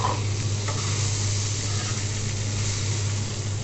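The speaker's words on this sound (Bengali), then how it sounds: "পটল দিয়ে হালকা একটু ভেজে নেব।" Pointed gourd (potol) fries with onions, giving an even, continuous sizzle close by, with a low steady hum underneath. No one speaks.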